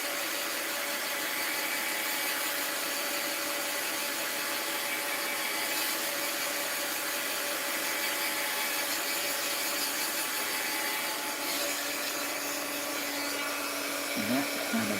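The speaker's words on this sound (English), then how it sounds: "let me hit it with the heat gun before I flip the page" Heat gun blowing on a gouache painting, a steady, even airy roar that holds for about fifteen seconds with only small variations and faint handling noise near the end.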